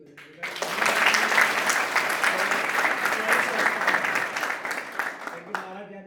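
An audience claps at a Savitribai Phule birth anniversary event in Surendranagar, a dense, loud round of applause that starts abruptly, holds steady for several seconds and then thins out.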